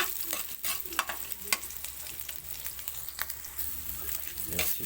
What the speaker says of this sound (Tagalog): Yun, magugisa na tayo.